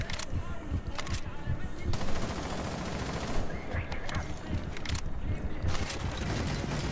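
Rapid bursts of automatic gunfire in the video game Rainbow Six Siege, repeated sharp volleys at moderate loudness with short gaps between them and a player talking over the shooting.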